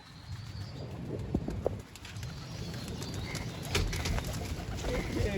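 Pigeons coo repeatedly at close range, a soft steady murmur of calls with occasional wing flutters over low background rumble and faint voices.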